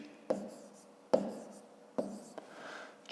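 A pen writes numbers by hand on paper, giving a few short, distinct scratching strokes with pauses between them, close and fairly quiet.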